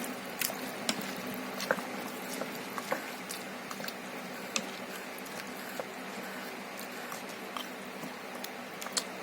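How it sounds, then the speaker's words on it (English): Mutton dalcha is stirred in a pot, with soft wet squelching and occasional light spoon clicks against the pot, close up and quiet. "Give it a quick stir."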